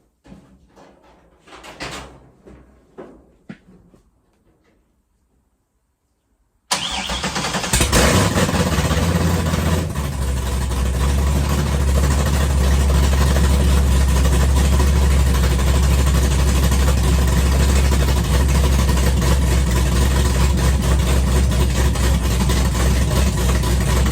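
A vehicle engine cranks and catches inside a building after clanking door sounds, then settles into a loud, steady idle that drones on alone for the remaining seconds.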